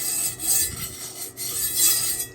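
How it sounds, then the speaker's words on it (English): Chainmail scraped across a cast iron skillet in repeated rough, rasping strokes, close and loud, with a metallic scratchy texture and brief pauses between passes. "just scrape it out of there with some chainmail"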